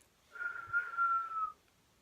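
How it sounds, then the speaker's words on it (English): A single person whistles one sustained, slightly wavering note for just over a second, fairly close and clear, with quiet surroundings and no talking. "I could do a little whistling."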